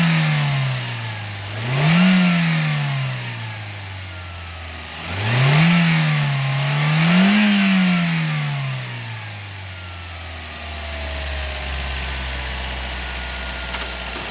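Car engine, its choking problem just repaired, idling and then revving up in a few rising and falling sweeps before settling back to a steady idle, close and fairly loud with no one speaking.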